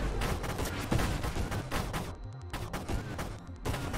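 Rapid ship weapon fire in the video game Nova Drift comes as a dense, continuous stream of quick bursts with a brief lull near the middle.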